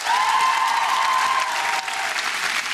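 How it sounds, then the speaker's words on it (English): Students in a comedy show audience applauding, a loud, steady wash of clapping from a large crowd that carries through the whole stretch, with a voice faintly audible. "Applaud if you're a student."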